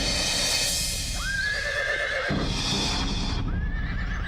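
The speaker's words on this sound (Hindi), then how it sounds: "कमाल है, ये घोड़ा तो उसके इशारों पे चलता है" A horse whinnies twice, a long rising neigh and then a shorter second call, loud and close over a continuous background of music and ambient noise.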